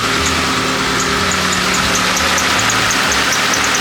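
A Nissan S15 Silvia with a built engine running with no exhaust fitted, giving a loud, steady, raw idle with a harsh buzzing drone and ticking, close up and continuous.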